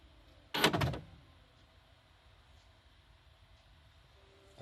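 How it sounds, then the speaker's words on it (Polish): A brief mechanical clunk and rattle, like a car door latch opening, sounds once up close, followed by a low, quiet hum. "otworzymy drzwi."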